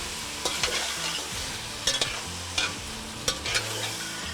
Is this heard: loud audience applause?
no